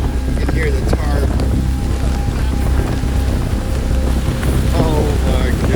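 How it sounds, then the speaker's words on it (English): A tarp on a boat flaps hard in a storm's strong wind, heard as loud, constant buffeting roar and rustling, with voices talking over it. "can hear the tarp."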